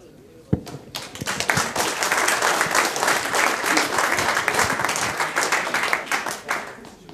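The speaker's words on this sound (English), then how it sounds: "Venezuela deserves a round of applause" A conference audience at a free software gathering breaks into applause after a sharp single clap, building quickly into a dense, sustained round of clapping that tapers toward the end.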